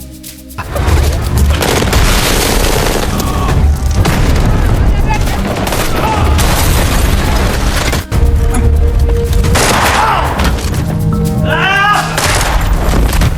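Sustained barrage of enemy gunfire and heavy booms during an attack in the Operasi Seroja war, loud and dense with rapid overlapping bursts and impacts for the whole stretch, a voice talking over part of it.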